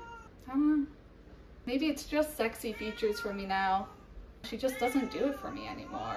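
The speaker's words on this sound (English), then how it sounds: "Also, sorry, that's my cat. He screams." A pet cat at home lets out drawn, screaming meows in loud bursts, close to the microphone, alternating with someone talking in between.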